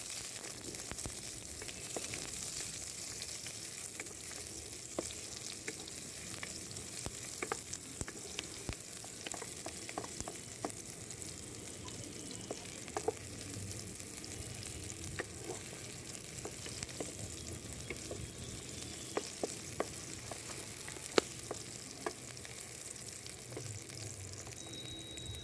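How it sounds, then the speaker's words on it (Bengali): Chopped onions sizzle steadily in hot oil in a pan during home cooking, with a continuous frying hiss broken by frequent sharp clicks and scrapes of stirring, close and moderately loud with no voices. "এবার এর মধ্যে দিয়ে দেব পেঁয়াজ কুচি, দিয়ে এটাকে নাড়িয়ে চাড়িয়ে ভালো করে"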